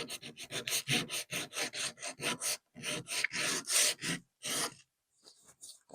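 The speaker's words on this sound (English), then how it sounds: "Get your sandpaper out." Sandpaper rubbed over wooden furniture in quick back-and-forth strokes, a close rasping scratch in bursts with short pauses, then a few lighter passes at the end.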